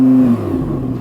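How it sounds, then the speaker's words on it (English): Audi R8 V10 engine revving while stationary, a loud close blip that rises and falls back toward idle, heard alone. "Now let's have some revs."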